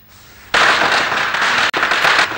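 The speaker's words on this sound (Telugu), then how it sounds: "దీపావళి కాదు కానీ క్రాకర్స్ పేలుతుంది" A string of firecrackers bursts after a quiet start into a loud, rapid, continuous crackle of pops, broken by one brief gap before resuming.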